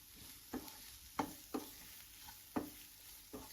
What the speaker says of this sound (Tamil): இந்த மசாலாவோட பச்சை வடை போற வரைக்கும், அந்த ஸ்மெல் போற வரைக்கும் நல்லா வந்து வதக்கிடுங்க